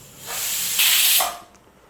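A pressure cooker cooking green peas lets off a single steam whistle: a loud, steady hiss that swells for about a second, then fades out, heard on its own with no talk.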